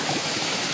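A river on Marinduque streams along in a steady, hissing rush with a broad, even wash and no breaks or voices.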